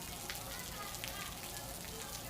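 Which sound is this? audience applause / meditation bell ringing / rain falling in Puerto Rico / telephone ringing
rain falling in Puerto Rico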